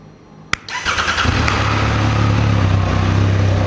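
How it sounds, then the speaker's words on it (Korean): A sharp click, then a Triumph Speed Triple 1200 RS engine with stock exhaust cranks and catches, settling into a loud, steady idle close by. "자, 시동 배기음 들려드릴게요."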